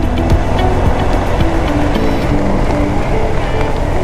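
Steady motorbike ride on a road in Kishorganj, with a continuous low engine drone and buffeting wind noise running loud and unbroken throughout, no speech over it.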